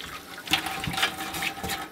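Hot water from an off-grid wood-fired tank runs into a cabin sink in a steady splashing stream, with gurgling and bubbling surges at a moderate, close level.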